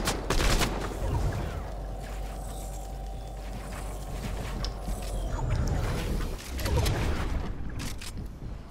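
Fortnite gunfire crackles through a busy game mix, with sharp shots near the start and around the final seconds over a steady mechanical hum, moderately loud, with no one talking.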